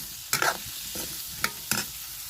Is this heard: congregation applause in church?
no